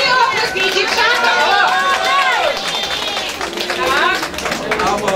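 Wedding guests applaud in a steady, close patter of hand claps while several people shout and chatter loudly over them the whole time.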